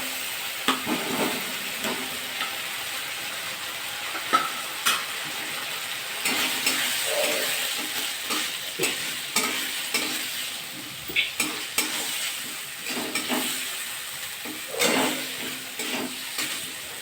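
Potatoes sizzle in a pan of hot oil for a cabbage and prawn dish, a continuous soft hiss broken by repeated scrapes and clinks as a spatula stirs them, with no talking.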